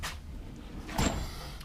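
A toolbox drawer slides open once, partway through, with a short scraping rattle, fairly close but soft, after a faint clunk at the very start. No one speaks.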